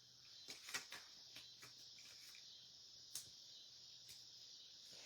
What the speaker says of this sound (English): Man, the cicadas are loud tonight